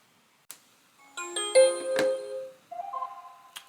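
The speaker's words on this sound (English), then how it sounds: "you could hear some chime, which actually is exactly the same chime when the NS Panel Pro boots up" A Sonoff iHost smart home hub plays its startup chime, a bright multi-tone melody of ringing notes, close and clear, framed by a few small clicks.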